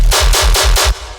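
Dubstep tear-out gun bass with a layered transient: four loud, gritty, machine-gun-like blasts in steady succession over a booming low end, then a short, quieter tail.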